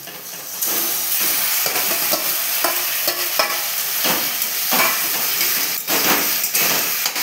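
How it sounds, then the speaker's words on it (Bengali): Marinated chicken hits a pan of frying onions, bursting into a loud, steady sizzle, with repeated scraping and clacking from a utensil stirring the pieces throughout. "এবার সেই ম্যারিনেট করা চিকেনগুলো দিয়ে দিচ্ছি।"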